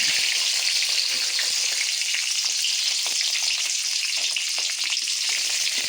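Whole garlic cloves frying in hot oil with cinnamon, bay leaf and whole cumin, a bright, even, continuous sizzle with small crackling pops up close, no talk.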